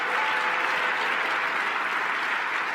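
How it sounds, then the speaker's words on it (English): A conference audience breaks into steady, dense clapping at a policy plenary session, sustained and even throughout with no pauses. "let's clap for the American people"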